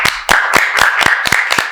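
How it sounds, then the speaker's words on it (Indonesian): Hand clapping, a quick run of about eight sharp, fairly loud claps in an uneven rhythm, from a small group in a podcast studio. "Tepuk tangan dulu dong"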